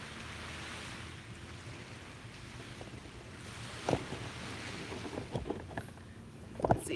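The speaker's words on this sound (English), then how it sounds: "the waves are really calm this morning" Calm ocean waves wash onto a beach in the morning as a steady rushing wash mixed with wind noise, with a few faint clatters near the end.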